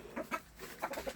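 Chickens near a small hut built for them cluck in a few short soft bursts, close by but low in volume.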